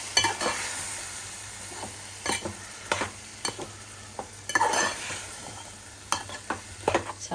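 Ground onion-tomato paste sizzles steadily in a pan while a spoon stirs it, scraping and clinking against the metal in irregular strokes over the constant frying hiss, close up and with no talking.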